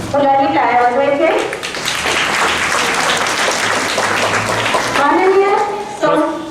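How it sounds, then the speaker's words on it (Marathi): Schoolchildren clapping at an Independence Day function at Tilak Vidyalaya, Dhantoli, Nagpur, a dense sustained burst of applause lasting several seconds, with someone speaking just before and after it. "मुलांनी टाळ्या वाजवायचे."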